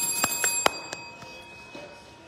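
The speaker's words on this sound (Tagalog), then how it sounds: "Bell." A small bell is struck several times in quick, uneven succession, bright metallic rings with short decays. The strikes grow fainter and sparser and then trail off over a quiet background.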